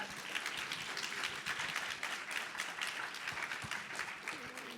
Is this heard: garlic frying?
no